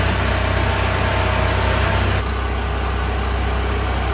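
A lawnmower engine runs steadily in a heated farm shop, a loud, even mechanical drone with a fine rapid pulse that drops slightly in level partway through and continues without talk.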